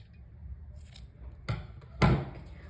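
Scissors snipping crochet thread during work on a small crocheted mini bag, two quiet close cuts in a calm room, the second slightly louder.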